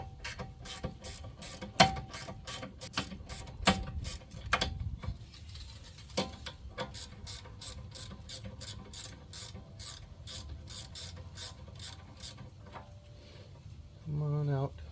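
Ratchet clicks in quick repeated bursts while a brake bolt is loosened on a 2016 Ford Flex rear brake job, fairly close, with pauses between runs and some background noise.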